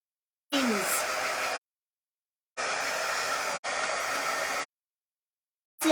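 A hair dryer drying paint on a craft plaque, blowing in three short bursts of about a second each, a steady close whooshing hiss that starts and stops abruptly with silences between.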